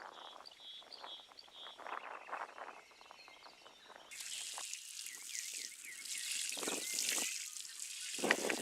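Water trickling and dripping onto newly planted carrot, radish and spinach seeds in a raised garden bed, soft uneven splashes and drips that grow louder and steadier partway through, with faint birdsong in the background.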